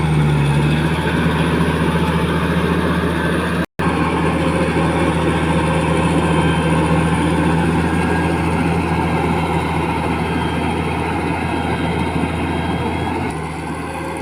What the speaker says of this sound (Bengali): দেখেন মেশিনে কীভাবে রাস্তা বানাইতেছে